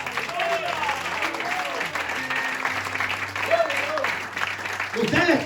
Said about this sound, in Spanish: Dele fuerte esas palmas al Señor.